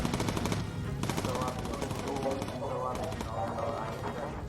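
A .50 caliber machine gun in the video game Bomber Crew fires in rapid bursts of rattling shots, loud and close, with a busy background of engine drone and game sounds.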